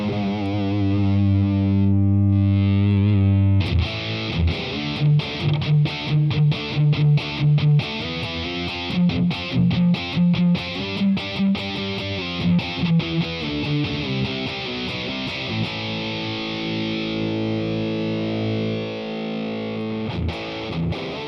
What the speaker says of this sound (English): It's a little distortion, it's a little fuzz, it's a little overdrive.